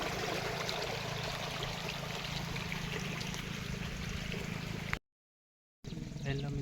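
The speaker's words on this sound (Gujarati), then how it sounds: "નજારો જુઓ આપણે કેવી રીતે પાણી આવે છે" Irrigation water flows into an onion field in a soft, steady trickling wash, faint and continuous, briefly cutting out before resuming near the end.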